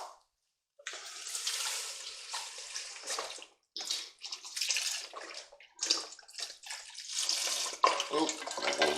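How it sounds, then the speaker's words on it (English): Beef broth splashes and gurgles as it is poured into a pot of short rib chili, a loud, close liquid rush in uneven surges after a brief pause, with no talking. "now what we're going to do is we're going to add in our beef broth."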